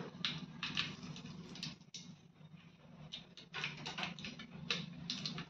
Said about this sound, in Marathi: मोहरी छान तडतडून द्यायची